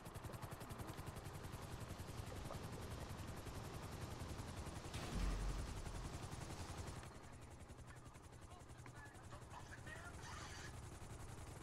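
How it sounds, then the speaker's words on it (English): Steady rotor thrum of a helicopter in GTA V, a constant rapid chopping that holds throughout, with a brief louder thump midway and faint background game sounds. "Bring the chopper down easy."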